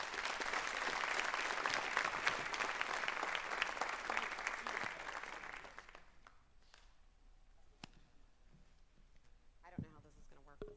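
Audience applauding graduating students at a co-op graduation ceremony, a dense sustained clapping that fills the first six seconds, then stops abruptly, leaving a quiet room with a few isolated sounds and faint voices.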